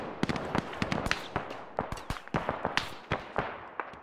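Rapid gunshots crack repeatedly in the military shooter ArmA 3, a steady stream of sharp reports at uneven intervals, some loud and close, others softer.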